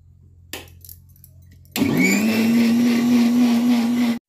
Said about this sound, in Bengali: মশলাটা মানে বেটে নিই